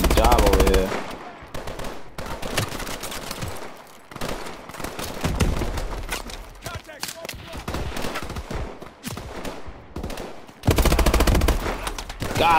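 Rapid automatic gunfire from the Call of Duty: Advanced Warfare video game, bursts of machine-gun fire and single shots rattling on and off across the clip with heavy booms at the start and end, mixed with game effects.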